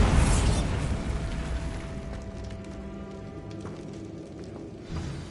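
A Bombarda spell blasts a barricade in Hogwarts Legacy with a loud, close burst at the start, fading into a long rumbling, debris-filled decay, then a smaller thump just before the end.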